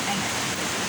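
A waterfall pours into a pool, making a loud, continuous rushing roar across the whole short moment.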